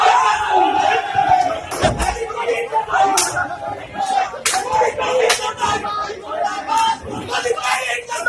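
A crowd of protesters outside a party office in India burning an effigy of Modi, loud overlapping shouts and chanting slogans with sharp claps and thumps breaking through the din.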